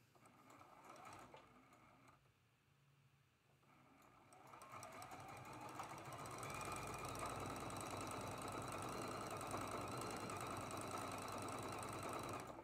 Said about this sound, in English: We're sewing 4 seams.